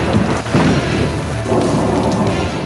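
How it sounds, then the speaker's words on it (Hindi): Stormy monsoon rain pours heavily in Khyber Pakhtunkhwa, a dense, loud and continuous hiss with low thunder rumbling underneath throughout, no voices over it. "खैबर पख्तूनख्वा में तूफानी बारिशों ने तबाही मचा दी है।"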